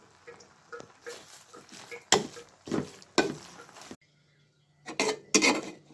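Chalta (elephant apple) pickle with vinegar and sugar being stirred in a pan, close and moderately loud: a series of scraping clatters and spoon knocks against the metal, with a short quiet pause near the end before two more bursts of stirring.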